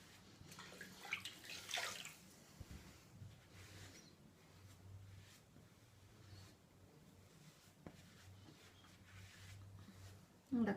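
Tap water runs and splashes as sugar scrub is rinsed from a face at a sink, a steady low wash with a few louder splashes, and a voice talks over it.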